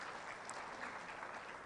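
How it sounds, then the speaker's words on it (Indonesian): Audience applause in the hall at the opening of the Makassar Leadership Summit 2023, a steady, distant-sounding wash of many hands clapping, faint and even throughout. "Jadi sekali lagi kita berikan tepuk tangan"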